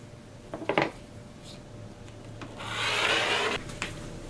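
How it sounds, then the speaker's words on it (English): Scissors or a cutter slice fabric for a purse sleeve, with a few faint snips early and then a longer soft swishing cut, quiet and close against a still background. "I'm cutting my fabric for the sleeve"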